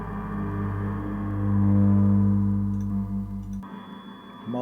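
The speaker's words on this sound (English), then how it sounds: "So this is me bowing the springs that are on there, very lightly I believe." Springs on a noise box bowed very lightly, a sustained droning, harmonically rich tone that swells in the middle and cuts off abruptly near the end, leaving a thin high whine and faint texture.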